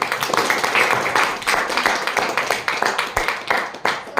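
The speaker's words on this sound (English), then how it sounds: "let's big round of applause for Nidhi" An audience at a speakers forum applauds steadily, with many hands clapping in a dense, moderately loud wash that rises and falls in small surges throughout.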